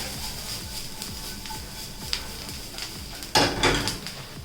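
Mushrooms get stirred through sautéing vegetables in a pan for linguine in white sauce, a faint sizzle under rhythmic scraping strokes, then a louder clatter of the utensil against the pan near the end.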